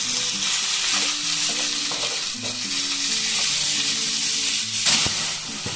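Chopped tomato, carrot and ginger fry in a pan with a loud, continuous sizzle and hiss, while clinks and scrapes of stirring come through and a sharp knock lands near the end.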